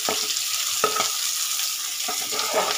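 Onions frying in a pan with garlic, a loud, continuous bright sizzle punctuated by a few scraping stirs and knocks of a utensil, with no talking.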